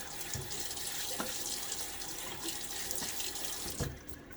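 Cool tap water runs steadily into a sink before a wet shave, a continuous close hiss and splash with small shifts in the flow and no talk.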